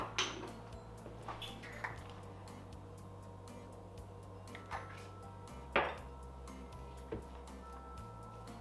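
Salt and smoked paprika are stirred in a bowl with a utensil, producing soft scattered clinks and scrapes against the dish at an uneven rhythm, quiet and close with a low hum underneath.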